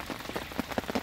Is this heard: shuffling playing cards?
no